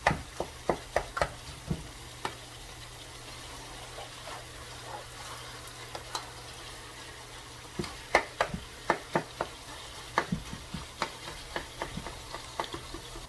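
Sweet sausage sizzles softly in a pan as a utensil chops and stirs it, with sharp taps and scrapes landing in irregular clusters over a steady low frying hiss.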